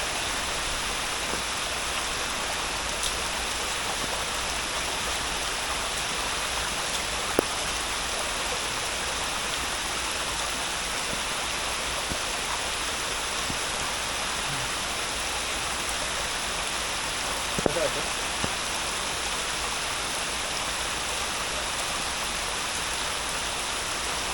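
A small forest waterfall in the Baronda Devi hills, its forceful water pouring in a steady, dense rush that stays unbroken throughout with only a couple of faint knocks.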